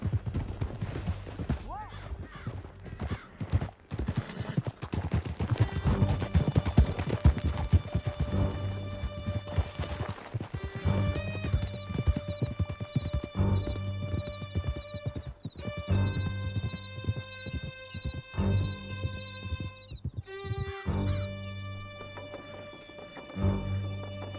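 Horses galloping hard through a canyon in Red Dead Redemption 2, a steady drumming of hooves with an occasional whinny, set under a dense orchestral music score.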